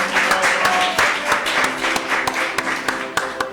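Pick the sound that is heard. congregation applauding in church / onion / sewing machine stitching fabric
congregation applauding in church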